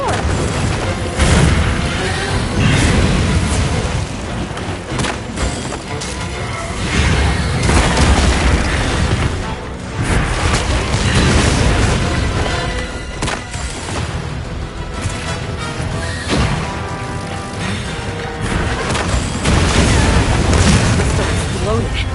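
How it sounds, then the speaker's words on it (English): Repeated heavy booms and bursts from explosions in Monster Hunter Wilds, set off by a monster's breath, roll on loudly and densely over a constant roaring battle din. "Exploded. It must have been from contact with his breath."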